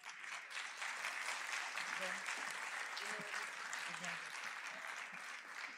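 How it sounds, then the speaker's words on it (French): Audience at an awards ceremony applauding for a musician, a steady, even wash of clapping, fairly distant and faint, with a few voices mixed in. "vos applaudissements s'il vous plaît"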